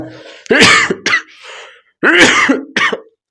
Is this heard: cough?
yes